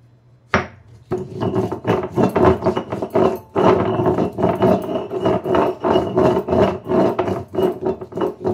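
A stone grinding slab and stone mortar are rubbed with soaked rice, giving a loud, close, continuous gritty grinding with rhythmic strokes after a brief quiet start, and no talking.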